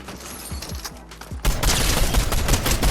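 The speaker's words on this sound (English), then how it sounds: "Using the auto shotgun like that isn't super efficient, but I can at least put some damage on him while I'm in the air" An auto shotgun firing in Fortnite, a few spaced blasts that break into a loud, sustained volley of rapid shots, close and forceful.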